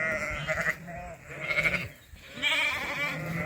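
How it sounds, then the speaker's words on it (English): Cheviot sheep on a farm bleating while being moved between fields, several wavering calls close by with gaps between them and no speech over them. "we're moving the sheep to different fields anyway"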